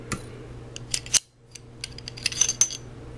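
Metal parts of a disassembled Beretta pistol, including the recoil spring, guide rod and barrel, clink and scrape as they are handled, with several sharp, close taps and a brief pause midway.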